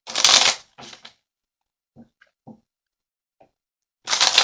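Tarot cards are shuffled in short riffling bursts, a loud one at the start and another at the end, with a few soft card taps in the quiet between them and no talk.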